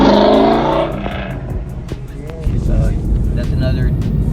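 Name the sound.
2020 Ford Mustang engine revving as it passes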